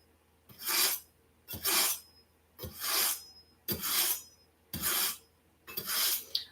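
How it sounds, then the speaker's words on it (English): A kitchen knife is drawn repeatedly across a sharpener to hone it, six rasping strokes spaced about a second apart, close and fairly quiet, with no voices. "let me make sure my knife is honed"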